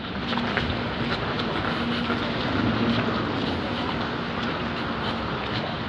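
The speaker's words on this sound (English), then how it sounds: "Yep, I can see the Azuma train." An Azuma train at Leeds station gives a steady, moderately loud rumble with a faint hum as it arrives, heard alone without talk.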